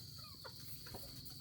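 Chickens give a few faint, scattered clucks in a rural yard, brief soft calls spaced apart against a steady background hiss and insect drone.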